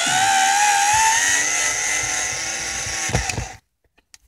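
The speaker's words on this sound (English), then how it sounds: "I'm just going to try to unscrew the unit" A power drill runs steadily as it unscrews a shelving unit from the console of a camper van, a close, loud whine holding for about three seconds before a few brief rattling bumps and sudden silence.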